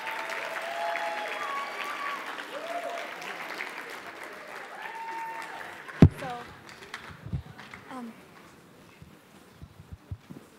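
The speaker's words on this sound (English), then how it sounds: "give a big, big round of applause for Military Academy and then Northside College Prep" Applause from a school event audience, moderate and steady for several seconds, then thinning out into scattered claps, thumps and crowd noise.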